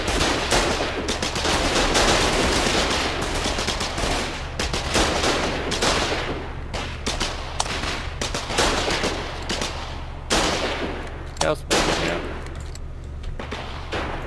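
Artillery and heavy gunfire in the war game Foxhole during a base assault, a dense, loud barrage of repeated blasts and rattling shots with brief gaps, continuing throughout.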